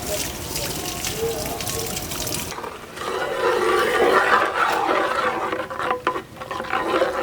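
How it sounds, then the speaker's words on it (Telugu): Water poured into a pot of spiced masala for Hyderabadi nalli gosht biryani, with a steady gushing, trickling splash beneath a speaking voice. "నీళ్లు మనం పోసుకోవాలి"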